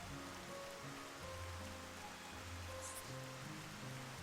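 Steady rain patters continuously across the ground in a thunderstorm within the Xenoblade Chronicles game world, a dense even hiss with faint tonal music underneath and no thunder clap standing out.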